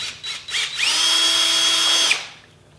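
A power drill spins a paint mixer paddle in a bucket of water, giving a short startup stutter and then a steady high whine for just over a second before it cuts off and fades.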